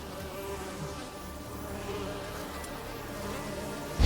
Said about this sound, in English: That is just bees.